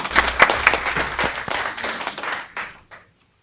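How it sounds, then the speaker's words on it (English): Brief applause from the audience at a school board of education meeting, a moderate scattering of claps that thins out and stops after about three seconds. "Yeah, we can clap."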